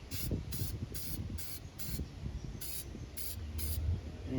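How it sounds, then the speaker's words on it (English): Aerosol spray can coating car battery terminals, cables and bolts, heard as repeated short hissing bursts in a steady rhythm, close and fairly loud over low background rumble. "then you want to spray this on it."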